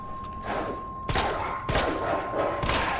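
Gunfire in the Resident Evil 2 Remake video game, played underground against dogs: a few loud shots, one after another, over dense continuous game noise.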